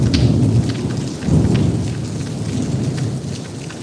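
Heavy rain pours down steadily while thunder rumbles low and deep, swelling a couple of times through the downpour.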